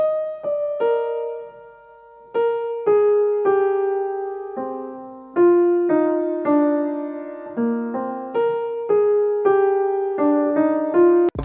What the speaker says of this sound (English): After that, I went ahead and I added this top line melody,